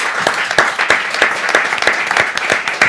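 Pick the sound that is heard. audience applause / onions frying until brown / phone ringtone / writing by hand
audience applause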